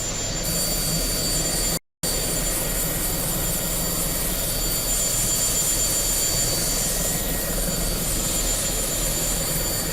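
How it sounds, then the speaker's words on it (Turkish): An ATAK attack helicopter's number one engine runs up after starting, a loud steady turbine whine and roar with a broad rushing hiss that holds nearly constant apart from one brief dropout. "Bir numaralı motorumuzu da çalıştırdık."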